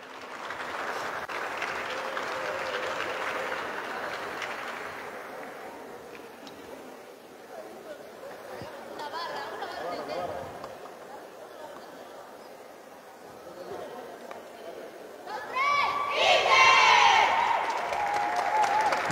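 A crowd at a women's volleyball awards ceremony at Club Internacional Arequipa applauds the runners-up, clapping rising and falling with chatter and scattered cheers, swelling louder with whoops near the end.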